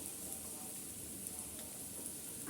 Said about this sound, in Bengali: পেঁয়াজটা একটু তেলে নেড়ে চেড়ে ভেজে নিচ্ছি